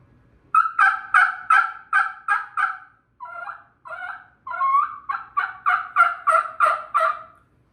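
A hand-operated turkey call mimics turkey clucks, purrs and cutting, giving loud, close, rapid bursts of sharp yelping notes in quick series with a short softer break in the middle, heard alone.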